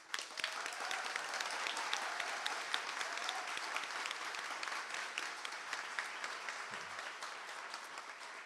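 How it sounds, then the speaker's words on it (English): A welcome address at a summit draws steady, dense applause from the audience that continues evenly for over eight seconds at moderate distance. "Just wanted to give everyone on our staff that's here today a big shout out and a round of applause."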